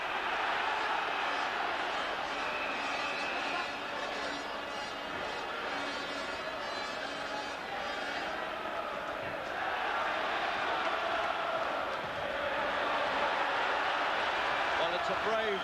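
Boxing arena crowd cheering and murmuring for Dave McAuley during his fight with Fidel Bassa, a steady roar of many voices heard under a commentator's talk throughout.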